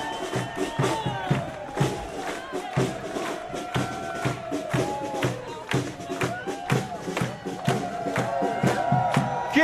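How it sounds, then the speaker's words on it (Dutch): Rhythmic crowd clapping and chanting at the Melick welcome for the OLS winners, steady repeated beats with voices singing along, fairly loud and continuous. "Hallo Heurens, het gejuich."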